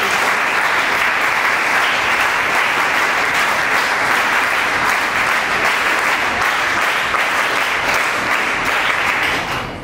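Loud, sustained applause from a large audience fills the hall at an honour ceremony and panel discussion, with dense clapping holding steady for about ten seconds and no voices rising above it.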